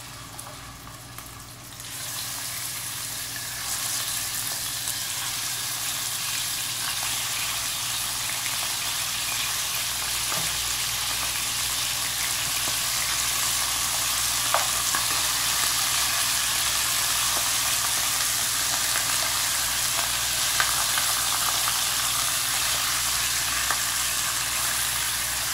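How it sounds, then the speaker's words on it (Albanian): Lamb pieces sizzle steadily in hot cooking oil in a pan, a dense, continuous frying hiss that starts after a brief quiet moment and stays loud and even throughout, with occasional small pops. "edhim vajin e gjellës për skuqin e mishit"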